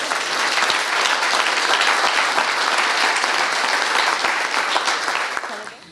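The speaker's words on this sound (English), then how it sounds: "I think we can applaud that again." Sustained applause fills the room at a city convention and visitors center news conference, many hands clapping steadily before fading out at the end.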